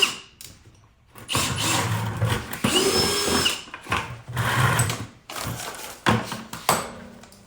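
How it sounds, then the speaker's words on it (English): A power drill whirs in repeated bursts, drilling a hole in the bottom of a plastic bucket, its motor revving up and down as it bites in, loud and close, with short pauses between runs. "I'm just going to drill a hole in the bottom"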